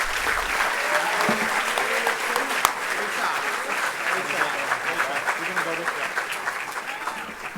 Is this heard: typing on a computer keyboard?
no